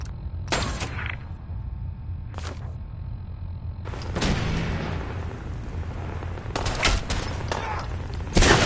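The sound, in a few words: gunfire in the video game Fallout 4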